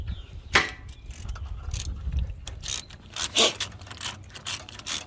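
A ratchet wrench clicks in short irregular bursts while someone works on a rusty 1953 Ferguson TO-30 tractor, the sharp metallic clicks close and intermittent over faint background noise.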